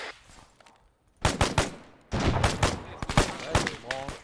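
Gunfire in the military sim game Arma 3 rings out in loud, rapid bursts, with a brief quiet gap before a longer stretch of repeated shots.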